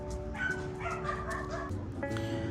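Several dogs bark, yip and whimper in quick bursts, fairly faint and somewhat distant, over a steady low hum.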